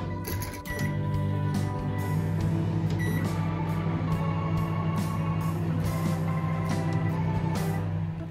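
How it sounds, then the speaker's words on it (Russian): A microwave oven runs with a steady low electrical hum and whirr, heating butter and chopped chocolate for brownies in a kitchen, a constant drone lasting the whole stretch with a few faint clicks near the start. "и поставила в микроволновку на 1 минуту."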